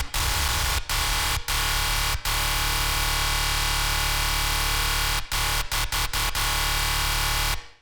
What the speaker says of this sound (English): we can actually add white noise with erosion